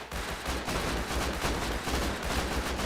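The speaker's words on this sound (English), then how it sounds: "there's a couple gunfights going on, but they're all being picked off slowly" Steady, dense crackle of distant gunfire from several gunfights during a large Rust base raid, a continuous rattle of overlapping shots with no voices.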